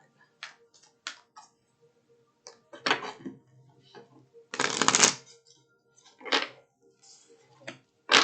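A deck of What's the Vibe oracle cards gets shuffled in short crisp riffling bursts, separated by quiet pauses, close and clear with no talking.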